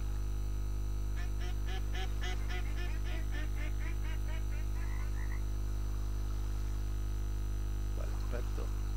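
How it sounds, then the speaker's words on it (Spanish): Wild ducks call in the Way of the Hunter game on PlayStation 5, a rapid series of honking quacks tapering off, then a brief second burst, over a constant low electrical hum. "lo que oímos son patos salvajes, pero están volando."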